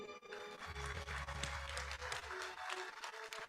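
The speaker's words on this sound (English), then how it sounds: "Please give applause" Dense, continuous clapping from a crowd at an MOU signing ceremony, sustained and even throughout, with a low hum underneath.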